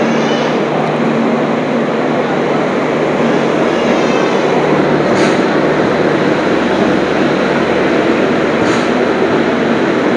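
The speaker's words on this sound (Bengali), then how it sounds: "ছেড়ে দিল কিন্তু আমাদের ট্রেন তোমার কলকাতা স্টেশন থেকে" Kolkata to Varanasi express train pulling out of Kolkata station, a loud continuous rumble and rattle of rolling carriages heard from on board, with faint squealing tones over the steady clatter.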